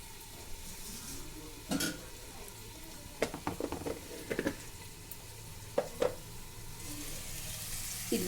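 Chili powder and masala sizzle and fry in oil for an egg curry, a steady close crackle with a few sharper spatters and stirring scrapes scattered through it.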